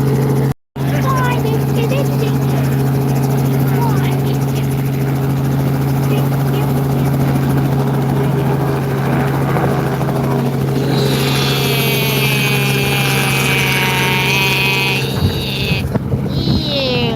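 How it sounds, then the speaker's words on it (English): Helicopter tour ride at the Ocean City, New Jersey airshow from Steel Pier, with a loud steady rotor and engine drone throughout and a rising turbine whine building near the end. "So this is the last chopper ride."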